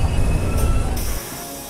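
A subway train runs in an NYC subway train simulator game, giving a steady, loud low rumble that drops away near the end as the train slows or the sound thins, with no voices.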